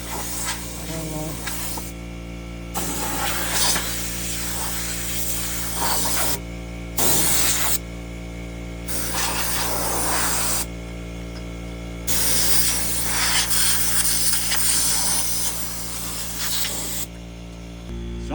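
A spray nozzle blasts packed grass out of a 72-inch Ferris mower deck after two and a half hours of mowing, loud, close bursts of hissing spray separated by short pauses over a constant engine drone.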